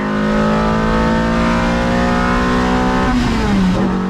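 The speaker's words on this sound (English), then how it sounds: "MR2 has never pulled this hard down the back straight" Toyota MR2 engine howls at high revs down a racetrack straight, a loud, steady sustained drone that climbs then dips sharply near the end as the car shifts or lifts off.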